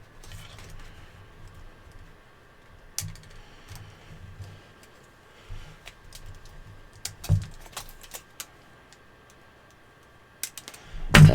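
Cutting parts from an Optimus Prime model kit with a pair of snips, producing a scattered series of sharp, close clicks and snaps with quiet gaps between them and a louder cluster of clicks near the end.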